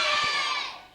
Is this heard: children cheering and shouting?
yes